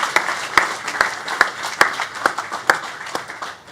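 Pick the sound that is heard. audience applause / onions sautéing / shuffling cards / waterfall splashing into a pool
audience applause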